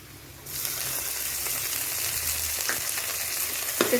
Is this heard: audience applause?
no